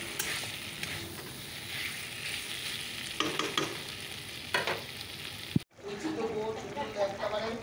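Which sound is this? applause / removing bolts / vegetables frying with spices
vegetables frying with spices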